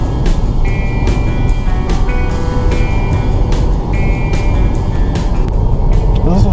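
Car cruising at normal road speed, heard from inside as a loud, constant rumble of engine and road noise with a few faint clicks and tones on top, and no talking.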